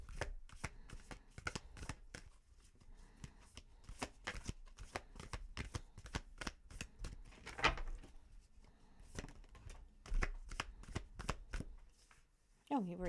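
Tarot cards being shuffled by hand, a steady run of crisp riffling slaps and flutters repeating in close succession, near and fairly quiet, with a soft voice speaking at moments between the shuffles.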